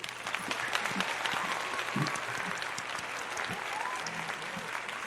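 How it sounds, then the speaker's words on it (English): An audience applauds the judges at a biotech pitch contest judged by musicians, with a moderate burst of clapping and a few scattered murmurs underneath. "could we get also the judges on here and give them a round of applause"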